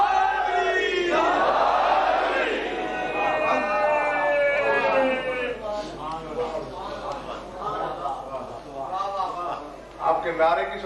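A crowd at a religious majlis gathering in Multan bursts into loud collective chanting and shouting of slogans, swelling then breaking into rhythmic group calls, with a voice heard among them.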